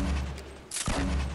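Gunfire in the video game Fortnite sounds as a burst of rapid shots, a dense low rumble with a sharp crack partway through, loud and close, with no talking.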